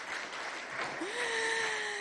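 Audience applause fills a packed hall at a school contest between IPEP Moundou classes, a steady wash of clapping with a voice speaking briefly over it.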